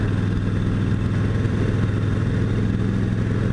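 A motorcycle ridden on a road into work in Kentucky: a steady close engine drone with a low throbbing pulse and wind rumble, holding an even cruising pace throughout.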